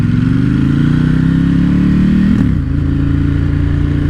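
Ducati motorcycle engine running loud and close while riding through traffic, a steady mid-pitched drone that rises slightly, then dips briefly as revs change before settling back.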